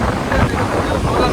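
Sea waves wash up on a beach near Mangalore in a continuous broad roar, heavily mixed with wind buffeting the microphone, loud and close for the whole moment.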